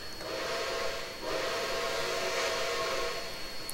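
A steam locomotive whistle in the video game Trainz 2019 blows in two long, steady, breathy blasts with a brief dip between them, loud and close over a hissing background.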